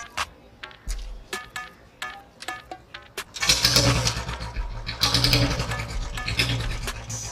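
A modified Royal Enfield Bullet 350 motorcycle gives several short kick and cranking bursts before its engine catches at about three seconds, then thumps along steadily and loudly at idle.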